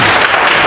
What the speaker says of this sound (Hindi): एक बार जोरदार ताली बजा दिए